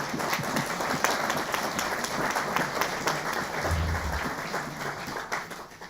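A conference audience applauds steadily for about six seconds, a dense, even wash of many hands clapping close by, with a faint murmur of voices underneath.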